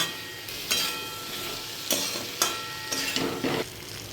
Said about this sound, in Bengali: যতক্ষণ না তেল ছাড়ছে আমরা ভালো করে নেড়ে এটা কষিয়ে নেব।